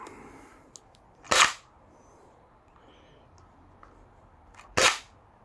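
A QWK Edge short foam dart semi-auto blaster fires twice, each shot a sharp loud snap about three seconds apart, with quiet room tone between.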